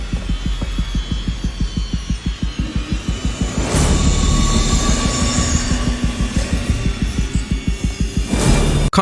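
A tram arrives at a station in the video game Alien: Isolation with fast, regular wheel clacks and a rumbling roll. A rising screech and hiss build midway, then the clacking slows as it pulls in.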